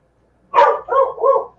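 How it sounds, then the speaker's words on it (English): A pet dog named Marley barks three times in quick succession indoors, loud and close, each bark a short sharp yelp with brief gaps between. "And now my dog's barking."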